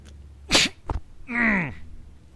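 A single sharp human sneeze, a quick intake then an explosive burst, followed by a short voiced tail, close and loud in a quiet room.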